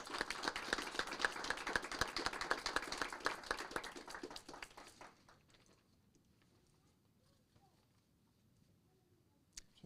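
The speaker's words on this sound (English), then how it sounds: "If we could give them a round of applause." Audience applause in a city council chamber, dense clapping for about five seconds that then stops abruptly, leaving quiet room tone with a faint tap near the end.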